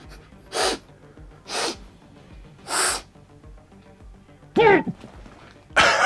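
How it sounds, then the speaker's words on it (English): A person sniffs a Warhammer Age of Sigmar Gloomspite Gitz troll miniature from the Trugg's Great Troggherd boxset, giving five short, close, breathy sniffs spaced irregularly against a quiet background. "let's give it a sniff test"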